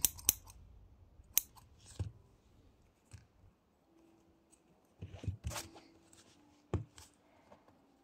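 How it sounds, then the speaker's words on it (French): Scissors cutting crochet yarn for a granny-square bag, heard as a few sharp, close snips spread across a quiet background with faint handling rustles. "Je coupe mon fil."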